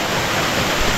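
A waterfall in Nueva Vizcaya roars as a loud, dense, constant broadband rush, close and unbroken, with no voices over it.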